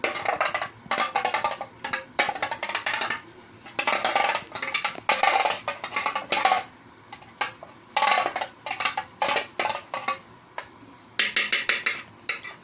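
A utensil stirs caramel in a flan mould, quick scraping and tapping strokes in irregular bursts with short pauses between them, close and moderately loud, no talk.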